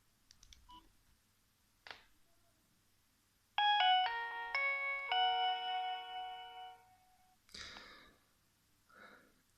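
After a few faint clicks, a Nokia 3100 mobile phone plays a short melodic electronic ringtone of stepped notes, then more quiet button clicks follow.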